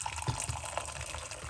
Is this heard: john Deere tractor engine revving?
no